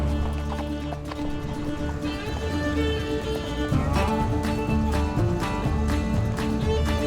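Horse hooves clip-clop steadily in the Cappadocia countryside in Turkey, over a constant background of music, with no talking.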